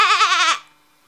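A voice imitates a goat bleating in one wavering, nasal bleat about half a second long, close and clear, then silence.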